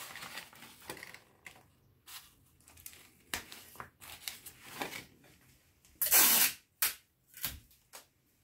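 Adhesive tape is pulled off a roll and pressed down in a few sharp, close rips and crackles, the loudest strip tearing near the end, between softer rustling handling noises.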